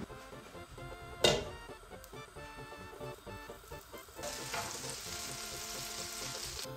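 Künefe (kunafa) dough heating in a pan gives off a steady frying sizzle, broken by one sharp clatter early on, then swelling louder and brighter for the second half, with no one talking.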